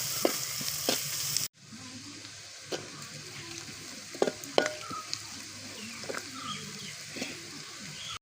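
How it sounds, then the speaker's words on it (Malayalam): Spice powder roasts in a hot pan for Kerala-style crab roast, giving a close, continuous sizzle with intermittent scraping stirs and clinks; the sizzle briefly cuts out and resumes. "പൊടി നന്നായിട്ട് മൂക്കട്ടെ."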